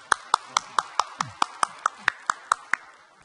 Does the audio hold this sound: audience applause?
yes